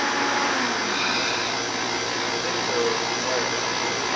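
Vacuum on a 1990 robotics workcell runs as a steady, loud broadband hiss that holds even and unbroken throughout, with no pauses or change in pitch.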